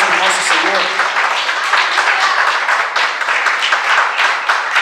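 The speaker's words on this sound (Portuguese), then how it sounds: "Vamos dar uma linda salva de palmas para o nosso Senhor?" A church congregation claps together in a steady, dense wash of applause with cheering voices mixed in, loud and close throughout.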